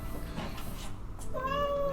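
A cat gives a single clear, rising meow near the end, close and distinct after a short stretch of low background noise.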